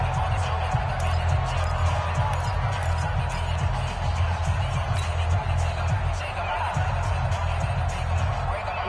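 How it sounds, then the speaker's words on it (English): A stadium crowd at a Broncos at Chargers football game gives off a dense, continuous roar of cheering with a low rumble underneath. Loud and steady, with an announcer's voice faintly mixed in. "the crowd getting into it as we come up on a big 3rd down"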